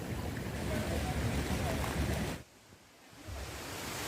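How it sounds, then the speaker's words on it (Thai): A winter waterfall, partly frozen over, with slippery rocks nearby, gives a steady, loud broadband rush of water. The rush dips sharply for about a second midway, then returns at full strength. "นี่นะคะน้ำตกที่เรามาดูกัน"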